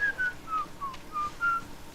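A person whistles a short tune alone: about six clear, separate notes in quick succession, close and moderately loud, with no talk.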